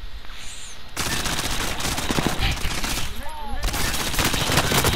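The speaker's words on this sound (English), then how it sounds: "He has that paintball clown gun." Rapid gunfire from a paintball clown gun in the video game Warzone, a dense, continuous rattle of shots that runs almost without a break and stays loud and close throughout.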